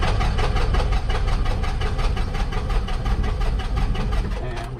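Light aircraft piston engine on a warm start in a brand new airplane, running loud and steady with a rhythmic idling throb throughout, easing slightly toward the end.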